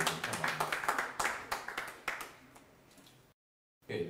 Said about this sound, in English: Let's give him a round of applause as the photos have been taken.